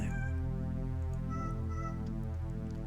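A cat meows continuously in a video game, its tonal, harmonic meowing held steady and loud for a few seconds over a droning game background.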